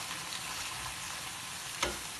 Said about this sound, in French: mon poivron et les petits pois. Je remue quand même un petit peu.